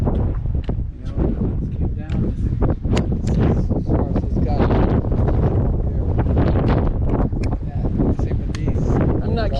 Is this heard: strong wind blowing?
yes